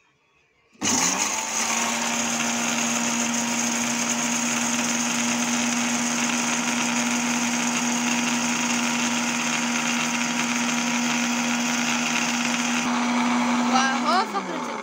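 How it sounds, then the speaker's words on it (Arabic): An electric blender beats homemade cake batter with vanilla in a kitchen, kicking on abruptly and whirring loud and steady at close range for about fourteen seconds before a slight shift near the end. "يلا اي حاجه هنحطها هنضربها في الخلاط لحد ما تبيض."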